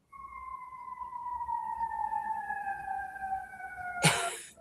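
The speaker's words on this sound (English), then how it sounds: "Are the sirens going to be bad?" A siren wails outside in one long steady tone that slowly sinks in pitch, cut off by a sudden loud burst near the end.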